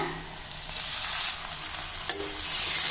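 Steady crackling sizzle of finely chopped tomato frying in hot oil for a spicy oil eggplant dish, with faint stirring and a sharp clink partway through; no talking.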